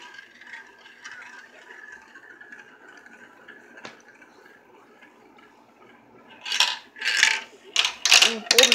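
Marbles clatter and roll through a funnel during a head-to-head marble race, a soft rolling rumble giving way to a burst of loud, rapid rattling clicks near the end.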